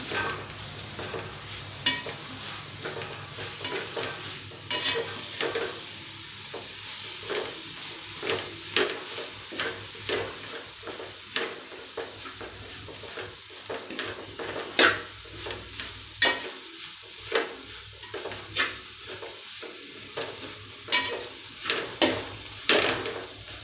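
Two medium tomatoes with ginger and garlic sautéing in a pan for chicken kulambu, a continuous sizzle punctuated by frequent spoon scrapes and knocks against the pan, close and moderately loud, with no speech.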